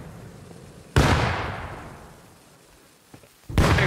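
In the survival game Rust, a grenade goes off with a sudden loud blast whose rumbling tail decays over two seconds, then a few small knocks are followed by a second sharp blast.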